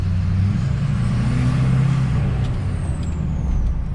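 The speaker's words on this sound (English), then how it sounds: "Now it might just be us tripping, but we think it has more spool." A Duramax LLY diesel pickup truck with a turbo mod, its deep engine rumble steady and close with a faint turbo whine rising over it, no talking.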